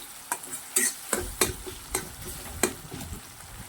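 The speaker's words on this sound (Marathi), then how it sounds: "अशा प्रकारे आपण चमच्यानेही बारीक बारीक करून घेऊ शकतो" A spoon mashes soft tomato in a sizzling pan, striking and scraping the metal in a quick irregular series of close knocks over a constant frying hiss.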